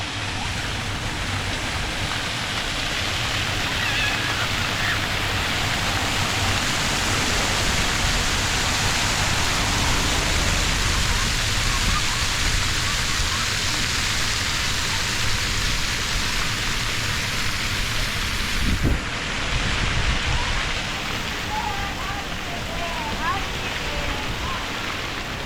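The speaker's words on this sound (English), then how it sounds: "you can come over here and play in the fountains right here in the water park" Continuous, steady splashing of fountains at a waterfront water park in Henderson, Kentucky, a dense hiss that stays loud throughout, with faint voices in the background.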